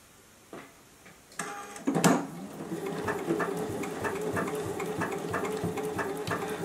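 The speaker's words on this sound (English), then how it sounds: "as the machine stitches over the elastic. And this nice triple straight stitch will really enforce that elastic." A JUKI sewing machine runs a triple straight stitch over elastic on a rounded face mask. A few handling clicks come first, then the machine starts and hums in a steady, close, rhythmic chatter of needle strokes.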